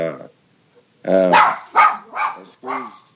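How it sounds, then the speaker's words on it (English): A schnauzer dog barks several times indoors, short sharp barks following a brief opening sound, fairly close and loud, separated by short pauses. "excuse the dog noise here. I've got a schnauzer that's decided something's outside."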